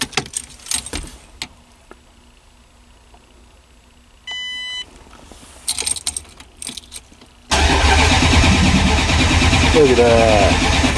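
Keys jangle and a steady electronic beep sounds before a Plymouth Barracuda with newly fitted ACES EFI fires up for the first time, then the engine roars into a loud, continuous run close by.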